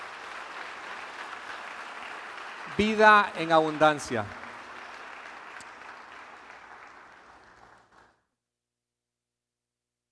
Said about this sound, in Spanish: Un aplauso a la misericordia del Señor.